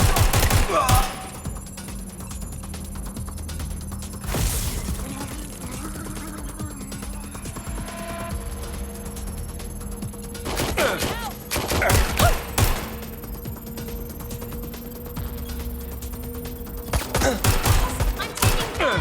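Video game gunfire in Watch Dogs Legion: sharp bursts of shots and rapid volleys crack out at intervals over a low steady game background, with scattered voices in between.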